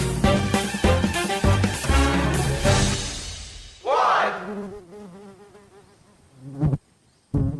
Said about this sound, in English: a buzzing fly somewhere in your room, or even a mosquito zipping around your ceiling late at night